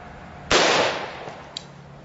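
A single sharp shot from an F1 Firearms AR-15 rifle firing 5.56/.223, a loud close crack with a fading rumbling tail, followed by a small faint metallic click.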